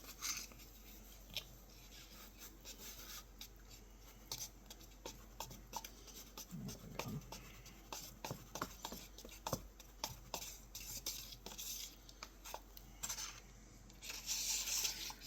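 Thick Mix2Mold molding powder mix is stirred in a container, a run of soft, close scraping and rubbing strokes in an irregular rhythm, quiet throughout.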